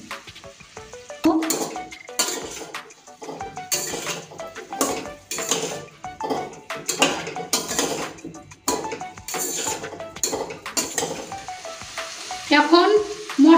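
Ground coriander, chili powder and turmeric sizzle and fry in a pan for a Bengali bam fish curry with papaya and potato, with steady crackling broken by repeated stirring and clinks of a spoon against metal, close and fairly loud.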